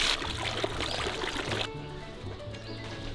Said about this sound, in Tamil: இது கூடவே நம்ம பால் சேர்க்க போகிறோம்.